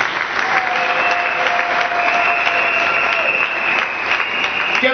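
A crowd at a religious gathering applauding and cheering in acclaim, a dense, steady wash of clapping with a sustained high vocal tone running over it throughout.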